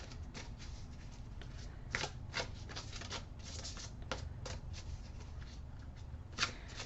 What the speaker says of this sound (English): I'm going to shuffle some more